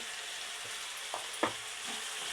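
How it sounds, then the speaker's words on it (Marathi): Chicken masala sautés in a pan with red chili powder, homemade black masala, onion-garlic masala and garam masala, giving a steady close sizzle broken by two brief scraping knocks from stirring. "आता परतून घेते चांगलं"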